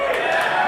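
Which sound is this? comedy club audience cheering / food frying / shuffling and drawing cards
comedy club audience cheering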